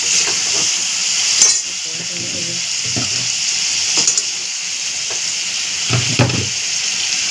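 Ginger, garlic and tomato paste fries without water for a Bengali chicken fry, giving a steady loud sizzle with occasional stirring scrapes and clinks of a utensil against the pan.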